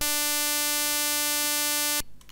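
A GB Studio Game Boy noise channel set to its 7-bit counter mode gives a steady, loud, metallic buzzing tone with a pulse-like edge. It holds for about two seconds and then cuts off abruptly.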